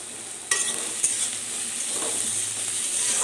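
Chopped onion sizzles steadily in a hot pan for rajma, with a sudden burst of frying at the moment it goes in and soft stirring scrapes afterward, close and continuous.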